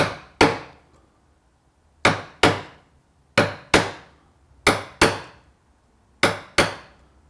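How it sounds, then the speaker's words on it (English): A mallet drives a chisel along a wooden mortise in sharp, close knocks that land in pairs, each double strike followed by a short pause, ringing loud and crisp in an otherwise quiet room. "So we're going to do a series of small chops to start with,"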